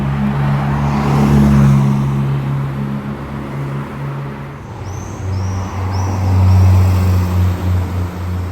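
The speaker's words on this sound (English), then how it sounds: "True Monaco fashion, just a casual Ferrari Enzo driving by." A Ferrari Enzo drives by on a Monaco street, its low engine rumble swelling, fading slightly and then rising again with nearby traffic; faint high chirps sound late on.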